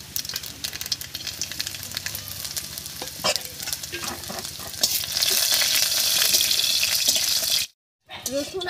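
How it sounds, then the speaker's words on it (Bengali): Chopped garlic and black cumin sizzle steadily in hot mustard oil, the frying growing louder and denser partway through, with occasional stirring scrapes and a brief silent gap near the end. "রসুন আর কালো জিরাটা ভাজা হয়ে গেছে,"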